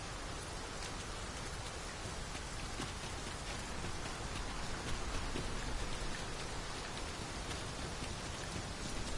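Steady heavy rain pours down in the video game Dragon's Dogma 2, a dense continuous hiss of drops on surfaces that holds evenly throughout with no voices.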